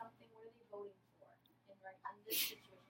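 Someone talks quietly, then a sudden sharp sneeze bursts out near the end, loud and close.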